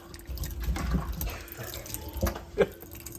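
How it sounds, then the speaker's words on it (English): Water gurgles and sloshes as it drains down a kitchen sink fitted with a newly installed compact Evolution garbage disposal, with uneven splashes close by and a sharper gulp near the end. "I'll pump this up, see if the water goes down."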